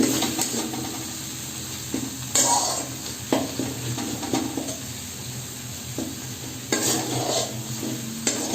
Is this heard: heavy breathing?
no